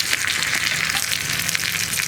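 Dried red chilies and curry leaves sizzle steadily in hot oil in a pan as they are stirred, a continuous close crackling hiss with faint scraping and no voices.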